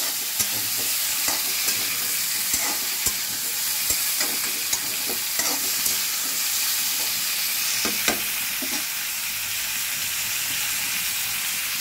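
Vegetables fry lightly in a pan for Bengali shukto, with a constant hissing sizzle and a steady run of spatula scrapes and clinks close by and no one speaking.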